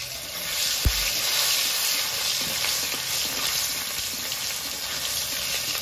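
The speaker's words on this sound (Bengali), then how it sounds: "টমেটোটা একটু নেড়ে ছেড়ে লাল লাল করে ভেজে নেব" Chopped tomato frying in hot oil, a loud continuous sizzle with intermittent scraping and clattering of stirring, a sharp knock near the start, close and without talk.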